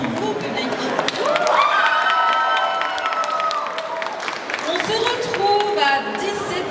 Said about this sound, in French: Et un tonnerre d'applaudissements pour vous, public.